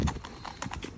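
Horse hooves clip-clop on the ground as the horse drops from a canter into a walk, a quick run of soft, uneven thuds, faint and close.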